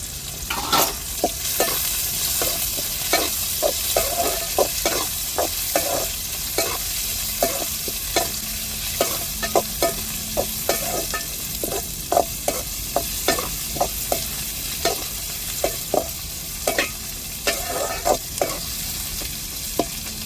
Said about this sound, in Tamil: அடுத்தது நான் ஒரு ஏழு பூண்டை எடுத்து பொடுசு பொடுசாக கட் பண்ணி இந்த மாதிரி வச்சுருக்குறேன் இதையும் சேர்த்துக்கிடுவோம்